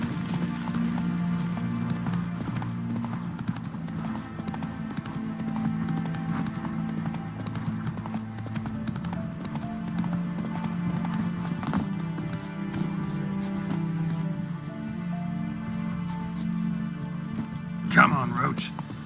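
The horse Roach gallops in The Witcher 3: Wild Hunt, with a steady rhythmic clip-clop of hooves under game music and a voice, ending in a brief louder burst.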